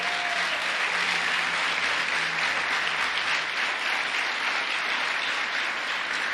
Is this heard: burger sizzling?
no